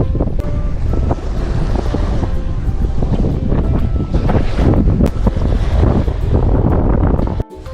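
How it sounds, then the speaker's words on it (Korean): Strong wind at a seaside island fishing spot on a cuttlefish trip roars and buffets hard against the microphone, loud and continuous, with a faint wash of sea beneath. "지금 바람이 너무 많네"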